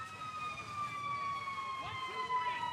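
A fire truck or ambulance siren holds a steady, faint wail from down the street near a ballpark during a championship game, with low background murmur underneath.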